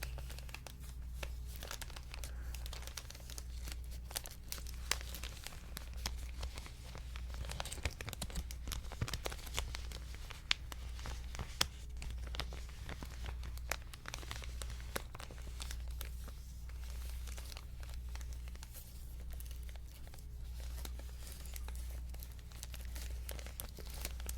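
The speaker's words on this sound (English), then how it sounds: "Very nice crinkle sound" Crinkly material crumpled and crinkled by hand close up, a steady run of dense crackling and rustling with occasional sharper snaps, continuous for the whole stretch with no talking.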